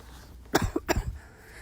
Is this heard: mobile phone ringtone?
no